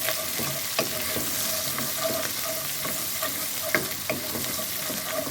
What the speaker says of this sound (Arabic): هنحط حبة بصل، فصين توم مفرومين. اقلب بقى كده.